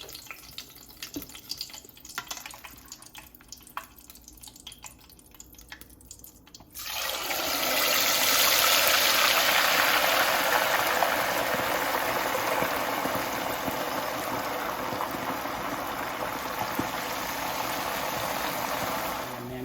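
Marinated chicken wings hit hot oil in a pan and fry with a loud, dense, steady sizzling hiss that starts abruptly after earlier handling clatter and keeps going without pause.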